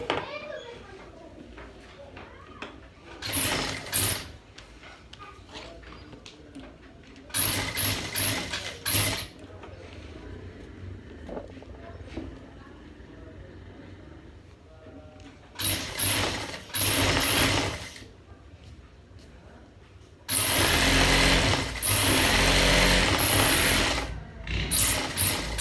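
A sewing machine stitches a gents' shirt collar in several loud mechanical bursts of rapid whirring. Quieter gaps with faint handling sounds separate the bursts.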